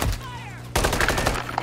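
Gunfire in Call of Duty MW3, a weapon sound with a whining tone followed by a rapid loud burst of automatic shots close by.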